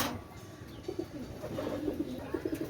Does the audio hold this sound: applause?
no